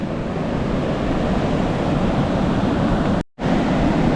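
Loud, steady roar of surf crashing on a beach, constant and wind-blown, with a brief cut near the end.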